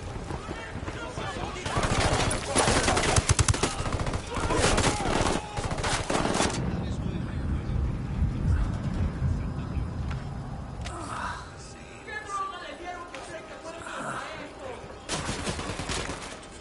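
Ghost Recon Wastelands gunfire, with heavy, rapid automatic bursts crackling loudly for several seconds, then fading into quieter battlefield ambience with scattered shots and faint voices.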